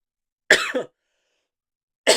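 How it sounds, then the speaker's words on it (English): A single close cough bursts out, followed by a pause of silence, then another cough begins at the very end. "I don't know why I'm coughing so much."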